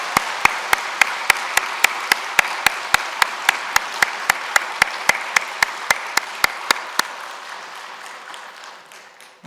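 A church congregation at an Easter Sunday service applauds the Hallelujah choir, even rhythmic group claps in steady unison beats that gradually fade out.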